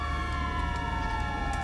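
An emergency vehicle siren in FiveM roleplay on GTA V wails steadily and fairly loud throughout, a continuous electronic tone over an engine hum, with no speech.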